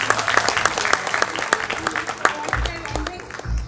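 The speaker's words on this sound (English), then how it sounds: "A big round of applause for Arushi." Audience applause after a young singer's performance, a thick rattle of many hands with a voice speaking over it and deep thumps near the end.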